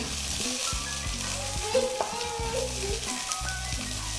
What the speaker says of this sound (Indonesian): Ini langsung kita tumis bawang merah, bawang putih. Tumis dulu sampai setengah layu.